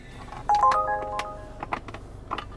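A smartphone chimes with an incoming Uber ride request inside a car, giving a brief bright electronic melody of rising tones, close and clear over quiet cabin noise.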